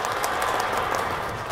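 Wedding guests applaud at a ceremony, a steady wash of clapping holding at moderate level for the whole moment with no talk over it.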